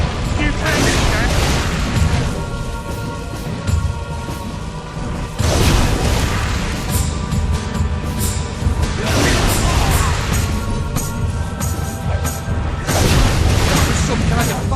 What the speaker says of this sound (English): Some kind of fire spell.